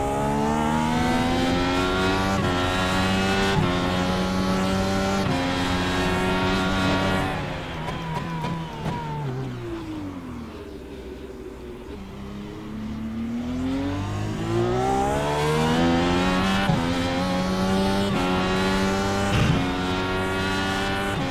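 Simulated IndyCar race car at Circuit Gilles Villeneuve in iRacing, its engine note sweeping up and down through gear changes, then dropping sharply under heavy braking as the revs fall before climbing again, loud and continuous throughout.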